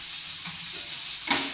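Water poured into a hot pan of masoor dal lentils cooking with egg and tomato gives a steady frying hiss that flares into a sudden louder sizzling burst near the end, close by with no voices.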